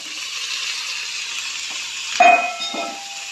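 Onions and tomatoes fry in a pan for a spicy fish sambar, giving off a steady close hiss. A brief utensil clatter breaks it near the end, and no voices are heard.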